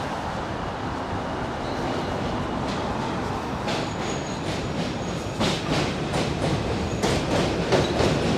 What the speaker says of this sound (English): M train coming again. Other direction.